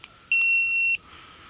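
A single sustained electronic beep, roughly two-thirds of a second long, from a dog training collar; the tone is clean, loud and close, with only faint room noise before and after.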